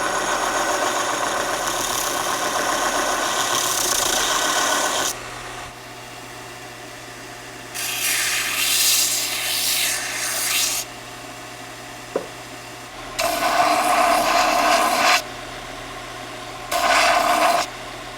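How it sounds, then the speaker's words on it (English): A cheap belt sander grinds a handmade steel hammer head, bursts of bright abrasive whine and rasp alternating with a lower motor hum between passes, close and loud, no talk. "I'm just using this cheap belt sander to get me by until I have something better"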